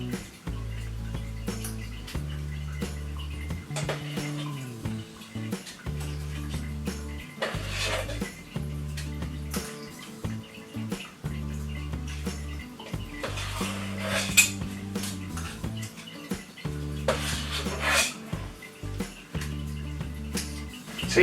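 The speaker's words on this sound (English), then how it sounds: "start spooning in the mixture into the muffin cases or the cupcake cases" Cupcake mixture being spooned into paper muffin cases in a cupcake tray, repeated light clinks and scrapes of a spoon against bowl and tray over a low background, with no talking.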